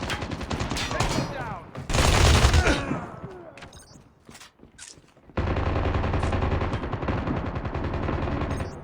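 Rapid bursts of automatic gunfire and single shots in the mobile shooter game COD Mobile, loud and close, coming in clusters with a short lull midway before a sustained stretch of fire, with game voice lines mixed in.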